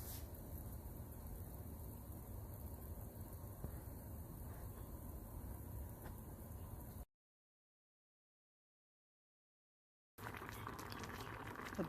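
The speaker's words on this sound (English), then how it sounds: "The potatoes are boiling now." Potatoes boil in a pot of water, giving a steady, loud bubbling hiss that runs for about seven seconds, drops to silence, then resumes briefly at the end.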